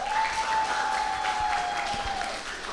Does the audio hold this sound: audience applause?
yes